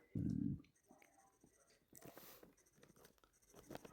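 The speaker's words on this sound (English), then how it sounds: "I will colour that with some red pencil" Soft scratchy strokes of a red Derwent artist colored pencil on a nature journal page, faint and close, with a low thump at the start and quiet whispery breaths.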